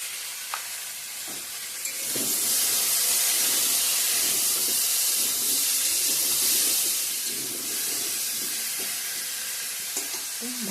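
Ground spices with turmeric frying in a pan, a loud continuous hissing sizzle that swells midway and settles, with faint stirring knocks underneath.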